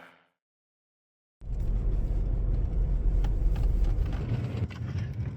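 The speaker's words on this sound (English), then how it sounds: "we're currently driving down this switchback" A car rolling down a switchback road, a low steady engine and tire rumble starting abruptly after a moment of silence and continuing with some bumps and rattles.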